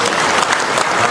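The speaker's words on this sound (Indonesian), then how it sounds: "Kasih aplaus" Audience applause honoring Bung Tomo's family at a formal Surabaya ceremony, a dense, loud, continuous clapping filling the whole moment without pause.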